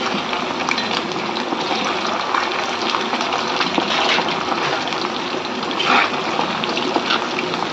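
Chicken Manchurian pieces deep-fry in a wok, a loud, dense, continuous bubbling hiss of oil with sharp spattering bursts throughout, close and unbroken.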